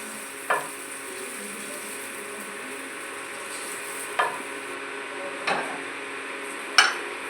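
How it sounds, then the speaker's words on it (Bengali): Drumstick flowers frying in oil in a pan, a soft continuous sizzle with four sharp clicks of a utensil against the pan spaced a few seconds apart, no voices. "এরকম করে ভাজলে এটা খেতে বেশি ভালো লাগে, হালকা হালকা করে ভাজলে"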